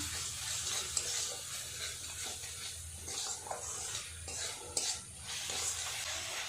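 Spice paste for chicken do pyaza is stir-fried in a pan with a soft, continuous sizzle and repeated scraping strokes of a utensil against the pan.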